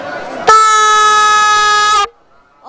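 Larger toy horn (turotot) sounding one loud, steady buzzing blast of about a second and a half, close by, with faint voices just before and after.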